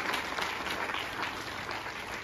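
Children in a school workshop at Real International School clap together in a brief, dense round of applause, heard somewhat distant and muffled.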